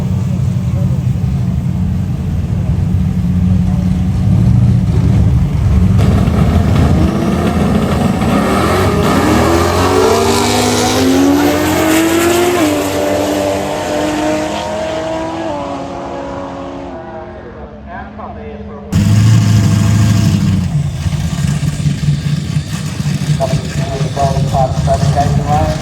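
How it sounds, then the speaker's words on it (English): Barra-powered BC Commodore doing a burnout with its rear tyres spinning, a loud sustained engine roar that climbs in pitch, cuts out briefly, then returns strongly, with a voice talking over it. "Punishing those rear tyres. C Commodore, Barra powered BC Commodore."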